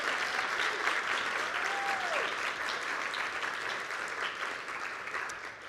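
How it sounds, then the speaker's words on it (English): Conference audience gives steady applause for the organizing team, a continuous dense clapping at moderate level with a faint brief vocal whoop in the crowd. "A round of applause for the FOSI team."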